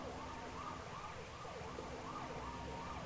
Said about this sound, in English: As a freaking police car is just circling Rouge